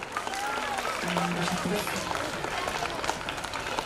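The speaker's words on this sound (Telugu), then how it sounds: "గట్టిగా క్లాప్స్ మళ్ళీ ఆపారు." A school audience applauds at a 21st anniversary programme as rank holders are announced, a dense, steady wash of clapping filling the hall, fairly close, with a faint voice underneath.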